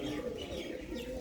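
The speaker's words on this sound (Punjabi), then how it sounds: "ਦੇਖੋ ਬਈ ਬਹੁਤ ਹੀ ਸ਼ਾਨਦਾਰ ਕਬੂਤਰ" Fancy pigeons, including a spotted one, give a brief burst of soft, low cooing close by, fairly quiet, with a faint chirp mixed in.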